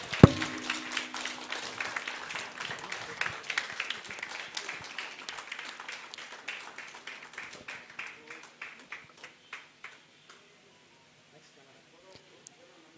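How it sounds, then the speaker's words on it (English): Audience applause at the launch of a news website in Bengaluru, starting as a dense burst and thinning into a few scattered, separate claps that fade out near the end. "Please give a huge round of applause"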